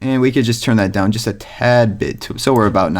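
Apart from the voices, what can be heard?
No distinct noise like a dog, phone or traffic.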